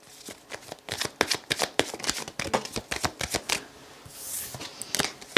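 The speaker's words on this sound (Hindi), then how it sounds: "ओके हम आपके लिए कार्ड्स को शफल करते हैं" A deck of tarot cards is shuffled by hand in a rapid run of crisp riffling slaps, close and fairly loud, with a brief softer swish near the end.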